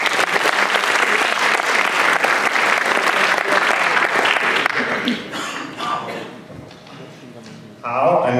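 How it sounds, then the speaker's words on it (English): Audience applause at a Python conference's lightning talk session, a loud sustained crowd clapping for about five seconds that then fades and thins out, with a voice beginning to speak near the end. "Give him a warm applause."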